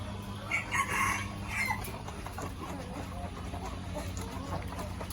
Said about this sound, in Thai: และนี่ไก่บ้านกับอีกนู่นก็ไก่บ้านกับเป็ดจ้ะ